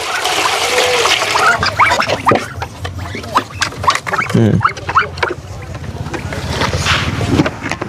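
Four ducks quacking and squawking nearby in short irregular bursts, with people talking over them and some splashing or rustling in the background.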